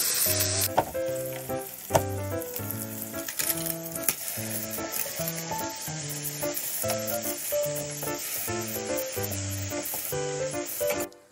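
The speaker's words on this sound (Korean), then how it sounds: "다시 기름 약간만 두르고 칼집 낸 스팸도 노릇하게 구워주세요." Scored Spam sizzles in a little oil in a pan, a steady close frying hiss that runs under rhythmic background music.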